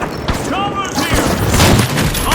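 Rocket launcher fire and gunfire in the shooter game THE FINALS, a dense burst of explosive booms and rapid shots layered with game sound effects and voices talking over the action.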